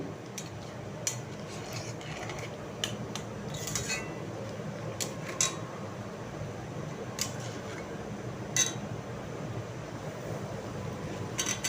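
A spoon stirs vegetarian potato and papad curry in a pot, giving scattered metallic scrapes and clinks over a steady low bubbling bed, moderately near and fairly quiet, with no talk.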